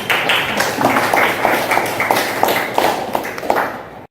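Students in an Indonesian classroom applaud together, a steady patter of many hands sustained for about four seconds at moderate loudness, thinning out abruptly at the end.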